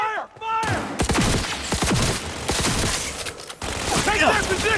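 A dense Cyberpunk 2077 firefight rages as rapid gunfire bursts crack loud and close for nearly five seconds, repeated shots overlapping, with shouting voices woven through the chaos.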